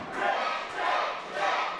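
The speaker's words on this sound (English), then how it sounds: "The crowd coming alive here, echoing around the West End Club, trying to get behind the unique Jake McClus" A wrestling crowd cheers at the West End Club, its roar swelling in three echoing waves that fill the room, with no clear voices above it.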